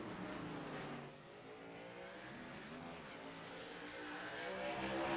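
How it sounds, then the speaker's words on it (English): Race cars braking into the S-bends on the back stretch at Portland International Raceway, a faint, distant, continuous engine drone that dips and swells as the cars slow and pass. "Hard braking into the chicane here on the back stretch."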